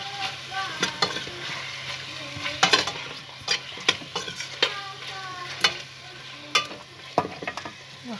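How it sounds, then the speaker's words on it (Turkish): Bulgur mixed with tomato paste is stirred in a pot, with rhythmic scraping strokes and sharp spoon knocks against the metal over a low, steady sizzle, close and fairly loud. "Arkadaşlar böyle karıştıracağız iyice iyice ne iyice ne salçasını yiyene kadar."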